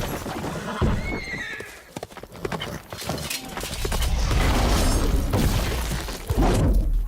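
A horse in The Witcher 3 video game neighs loudly amid clattering hooves and crashing, breaking sounds, with a busy, chaotic mix of game effects throughout.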